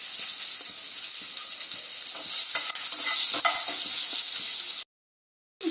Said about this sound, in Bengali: লঙ্কা, রসুন, কাজুটা, টমেটোটা একটু লাল লাল করে ভেজে নেব